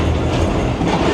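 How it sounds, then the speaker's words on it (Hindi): The 18 Down Millat Express, bound for Karachi, arrives at Rohri station with a steady, loud rumble of rolling wheels and cars clattering along the rails, close by and with no voices. "ये है 18 डाउन मिलत एक्सप्रेस जिसकी मंजिल है कराची"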